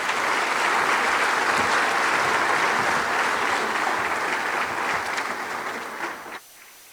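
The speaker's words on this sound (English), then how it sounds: "Another round of applause, please" Annual meeting audience applauds in a large hall, a sustained wall of clapping that gradually thins and then cuts off abruptly near the end.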